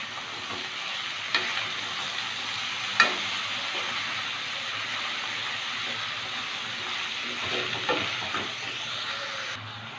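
Bottle gourd peel and onion fry together in a pan with a continuous dense sizzle, as occasional spoon knocks and scrapes stir the mixture and the hiss runs steadily to the end.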